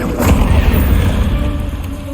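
Incendio fire spell cast in Hogwarts Legacy, a loud deep whooshing burst of flame that rumbles on and slowly fades over about two seconds.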